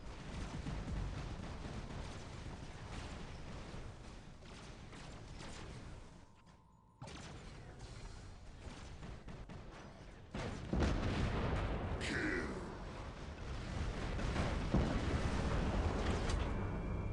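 In the video game Nightingale, SAR rockets burst in a rapid series of heavy, booming explosions, with a brief silent gap partway through before the blasts resume louder.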